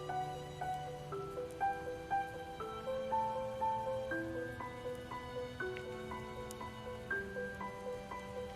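Steady rain hisses in the background of the game Project Zomboid beneath a gentle melodic tune of plucked, bell-like notes that play continuously.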